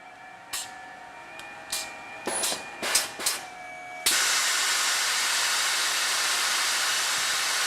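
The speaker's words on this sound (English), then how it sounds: "Simply break the bottom bead." Hunter TC39 tyre changer breaking the bottom bead, a run of short sharp pneumatic hisses and clunks followed by a sustained loud rushing hiss that continues to the end, close and unvoiced.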